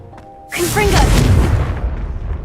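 A Confringo explosion spell is cast in Hogwarts Legacy, a sudden loud boom with a whooshing rush that decays over a couple of seconds, with a spoken incantation over the blast.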